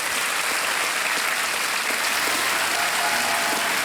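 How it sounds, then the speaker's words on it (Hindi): Studio audience applauding a quiz-show contestant who has just won 3,20,000 rupees, a dense, steady wash of clapping from many hands that holds evenly from start to finish. "तालियों के साथ इनका स्वागत"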